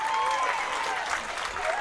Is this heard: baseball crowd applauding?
yes